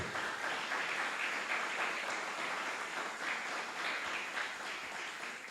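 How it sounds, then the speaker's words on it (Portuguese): A church congregation applauds during a Portuguese-language Sunday morning sermon, giving a continuous, even wash of clapping from a hall full of people, fairly faint and distant, with no talking over it. "você pode aplaudir o Senhor Jesus"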